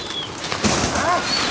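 Pigeons at a bird show in Larissa, soft cooing and a few brief calls over a busy, noisy background, with a burst of wing or movement sound midway.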